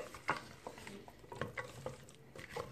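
A spoon stirs carrots and chickpeas in a pot while making Algerian couscous, giving soft scraping and knocking with faint sizzling patter, close and quiet in irregular strokes.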